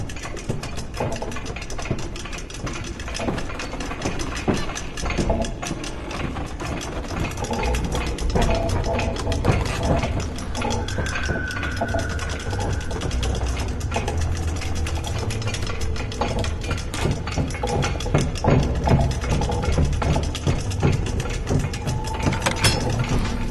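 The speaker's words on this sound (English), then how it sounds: "Let's take this elevator ride, shall we?" Steady mechanical hum and low engine-like drone of an elevator ride in the video game Shadow Point, continuous and moderately loud throughout, with faint clanks and a brief tonal whine partway through, no talking.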